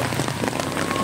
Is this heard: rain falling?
yes